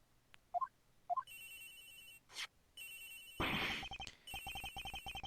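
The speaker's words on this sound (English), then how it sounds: "Agent Hicks' phone is ringing from somewhere, sir." A victim's mobile phone rings in a video game crime scene, sounding in several repeated bursts of electronic ringtone, fairly close and clear, with short gaps between rings and no talk over it.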